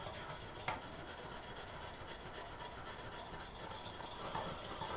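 A brush scrubs brass residue off a stainless steel bolt carrier group tail piece hinge part during cleaning before powder coating, giving a steady, close rasping rub that runs continuously with a couple of sharper scrapes.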